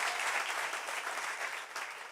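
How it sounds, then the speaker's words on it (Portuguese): A church congregation applauding loudly and steadily during a worship service, a dense wash of many hands clapping throughout without a break. "Aplauda o Senhor bem forte"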